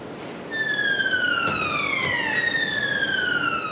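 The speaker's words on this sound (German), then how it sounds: "Die Sirene, ein Achtungszeichen, dass die Anlage wieder anläuft." A warning siren sounds in the Neustrelitz parcel centre as the conveyor system restarts: loud sweeping tones that start abruptly and slide downward in overlapping wails, over a constant hum of machinery.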